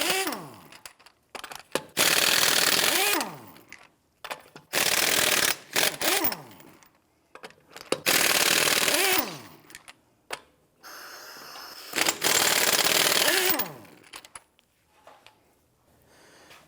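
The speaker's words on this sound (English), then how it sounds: "Use a 21mm socket to go ahead, loosen and remove the lug nuts." Socket wrench loosening and removing the lug nuts on a 1992-1996 Toyota Camry 2.2L: several long, loud bursts of ratcheting, each a few seconds, separated by quiet gaps, close to the mic.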